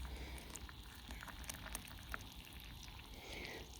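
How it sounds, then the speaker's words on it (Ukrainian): Hot milk pours over porridge oats, a faint, soft liquid trickle and bubbling wash with light drips, quiet and continuous throughout. "заливаю все це гарячим молоком"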